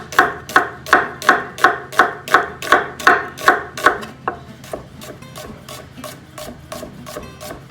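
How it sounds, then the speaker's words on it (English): A knife cuts thin slices through the tender heart of an onion on a board, about a dozen crisp, evenly spaced chops close by, then quieter scraping and light handling noises with no voices. "I just want the nice tender heart of the onion,"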